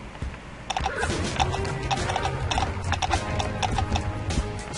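Hooves clip-clop in a steady rhythm with occasional neighs from a horse in the Slender Horse video game, sounding loud and continuous throughout.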